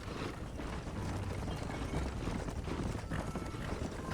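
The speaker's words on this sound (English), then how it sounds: "Qué bonito mi caballo siguiéndome detrás, tío." A horse trots behind its rider in the video game Red Dead Redemption. Its hooves clip-clop steadily and fairly close over a continuous bed of game ambience.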